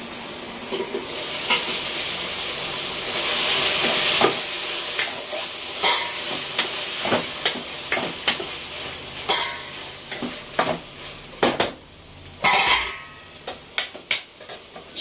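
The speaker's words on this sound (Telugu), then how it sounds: "చూడండి టమాటా వేగిపోయింది" Chopped tomatoes fry and hiss in a pan for chutney, with a steady sizzle at first and then repeated scraping stirs of a spoon against the pan, close and fairly loud, with no talk.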